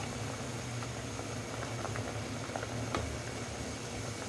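Gulab jamun simmering in sugar syrup, a steady close bubbling and fizzing with small pops throughout, no talking.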